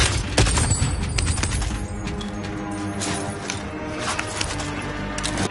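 Dense gunfire and impacts from a Call of Duty match, a steady barrage of shots and crashes running throughout at close range with a game soundtrack bed beneath.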